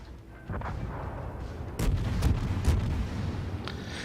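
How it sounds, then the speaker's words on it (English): Naval cruiser guns firing in World of Warships, the IJN Chikuma, a few sharp booming shots at moderate volume over a low ambient rumble of the game's sea and engine sounds. "we might as well try and shoot at the Nassau"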